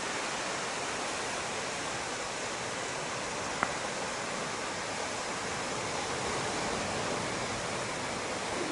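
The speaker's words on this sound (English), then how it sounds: "Look at the waterfall." Waterfall near a coastal campsite, heard as a steady broadband rush of falling water, faint and distant, unbroken throughout apart from one tiny click.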